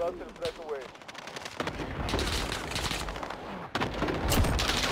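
A cluster bomb strike in Call of Duty Warzone, a dense run of rapid blasts and crackling impacts under a brief voice, building into continuous rumbling detonations.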